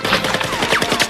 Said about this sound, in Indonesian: Rambo pun membalas tembakannya itu dengan membabi buta